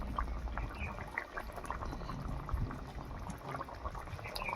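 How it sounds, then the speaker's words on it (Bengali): Potatoes boil in a pot with a steady, faint bubbling and gurgling of water, soft and continuous throughout with no talk. "আলুগুলো খুব সুন্দরভাবে সেদ্ধ হয়ে গেছে।"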